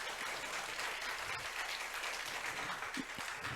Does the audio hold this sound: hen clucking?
no